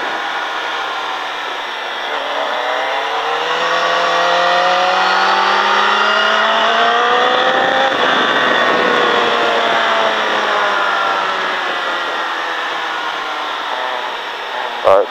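Motorcycle engine revving hard on track at Mettet during a riding-school session, a loud sustained whine rising and falling in pitch as the throttle opens and closes, close and continuous throughout.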